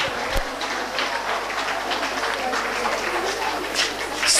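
Parents applaud steadily at a school annual function, a dense, sustained roll of many hands clapping in a large hall, fairly loud and unbroken throughout.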